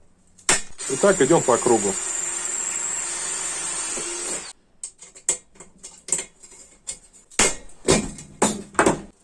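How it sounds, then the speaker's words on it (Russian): A rivet tool sets rivets into an empty spray can, first a long sustained mechanical buzz, then a run of sharp repeated clicks and snaps close up, with a brief spoken line partway through. "Сразу вставляем заклепку и прижимаем."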